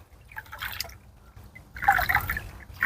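Fermented banana liquid poured out of a container in short bursts, giving soft trickling and dripping splashes, close up, with a heavier pour near the end and no talking.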